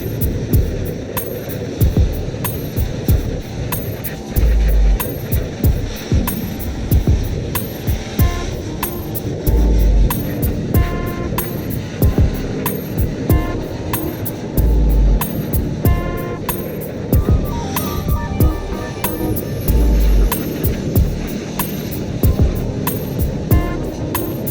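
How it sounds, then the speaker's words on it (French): A Kärcher pressure washer runs continuously while cleaning a fertilizer spreader outdoors, producing a steady loud hiss and hum of spraying water with periodic low thumps, close to the listener. "je vais lui mettre un petit coup de Karcher"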